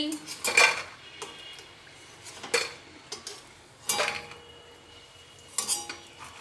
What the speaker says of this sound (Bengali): ভেজে তুলে নিচ্ছি